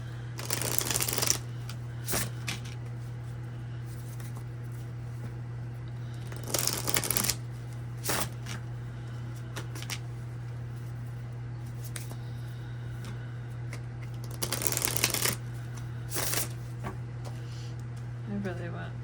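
Tarot cards being shuffled in several short bursts of quick riffling and flicking, heard close by under a steady low hum and occasional speech.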